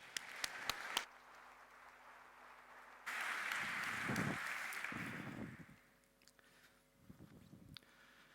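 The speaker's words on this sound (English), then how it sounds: "Please give a very, very warm applause to Diego Manchega" Audience applause for a speaker being welcomed at a health talk, a few scattered claps at first, then a fuller burst of clapping from the room that thins out toward the end.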